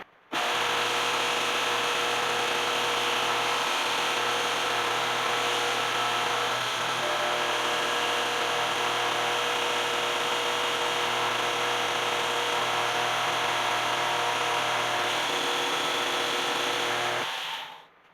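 2x32 belt sander running an 80 grit Norton Blaze belt while shaping a knife handle, a loud continuous whine and grinding rasp that holds steady for nearly the whole stretch before stopping.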